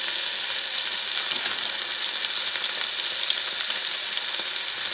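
Haitian épis and tomato paste fry in a pot for black beans and rice, making a loud, close, continuous sizzle with faint crackles and no talking.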